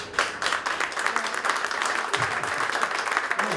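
A live audience at a political forum breaks into sustained applause, dense hand clapping filling the room steadily for a few seconds with no speech over it.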